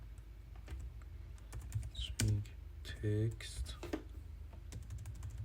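Keys clatter steadily as C++ code is typed on a computer keyboard, a fast irregular run of light clicks sitting under a voice as he speaks over the typing.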